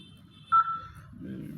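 An IP phone gives off a single short, clear dialing tone close up. Quiet background murmur follows, with faint talk underneath.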